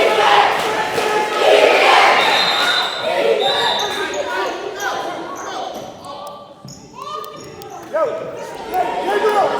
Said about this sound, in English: Crowd going wild, screaming in Sergio DeRojas' face